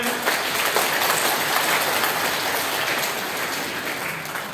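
Steady applause from an audience at a parish leaders' training session, dense clapping filling the whole stretch at an even level without letting up.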